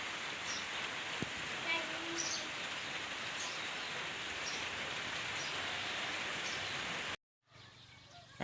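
Steady rainfall at a countryside home in Thailand, a broad continuous patter with faint bird calls now and then, ending in a sudden cutoff.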